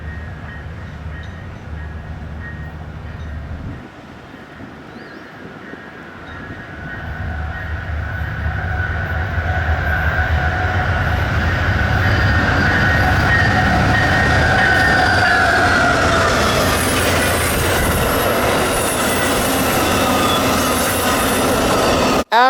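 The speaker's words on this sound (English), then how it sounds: "After that, the first of the 2 morning Amtraks came. This one is 40, the Floridian." Amtrak 40 Floridian passenger train passes loudly and close, a steady heavy rumble of wheels on rails building over several seconds, with squealing wheel flange tones and clatter rising near the end.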